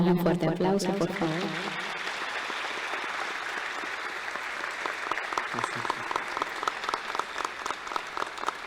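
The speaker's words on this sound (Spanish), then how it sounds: "Les regalamos un fuerte aplauso, por favor." An audience at an archdiocesan tribute to Pope Francis breaks into loud, sustained applause as a voice finishes, the clapping growing into a dense, rhythmic patter that continues to the end.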